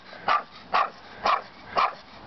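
Dog in an alley barks repeatedly, five sharp evenly spaced barks about half a second apart, moderately close and alone against a quiet background.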